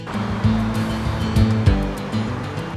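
Water tumbles over Lea Bridge Weir on the River Lea in a steady, loud rushing roar, with a low engine-like drone running beneath it.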